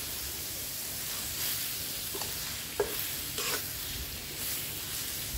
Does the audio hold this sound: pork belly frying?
yes